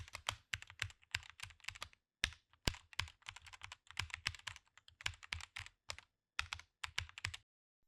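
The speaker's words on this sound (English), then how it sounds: "In the search bar, type Smart Money Breakout Channels" Rapid bursts of keystrokes on a computer keyboard, typing a search term into a trading chart site's search bar, close and crisp, in quick clustered runs separated by brief pauses, with no talking.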